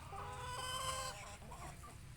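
Roosters clucking and squawking close by, a busy overlapping flock noise that swells then thins out, with no talking.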